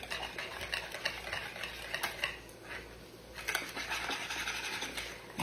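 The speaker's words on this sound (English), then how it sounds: "I'm stirring up my pumpkin dip" Pumpkin dip being stirred in a pot, with a steady run of close scraping and tapping strokes of a utensil against the pan and a faint sizzle underneath.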